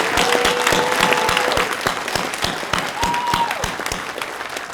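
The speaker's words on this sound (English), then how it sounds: "Let's give our Alumni Award recipients another round of applause." An audience at an alumni awards evening gives another round of applause for the award recipients, a sustained crowd of clapping hands with a steady pulse and faint tones running underneath.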